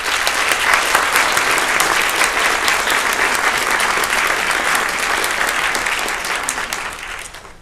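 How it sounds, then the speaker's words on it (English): Sustained audience applause at a literary awards finalists reading, dense and loud throughout and tapering slightly at the very end. "I wonder if we could join in a round of applause for all those involved."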